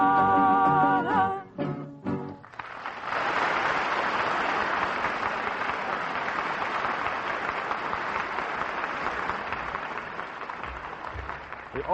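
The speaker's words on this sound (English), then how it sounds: "The audience at the Review Mexicana stops the show nightly with their applause for the great guitar virtuoso Vicente Gomez." Audience applause for guitar virtuoso Vicente Gomez at the Review Mexicana fills a hall, loud and sustained for about nine seconds after a brief burst of music ends.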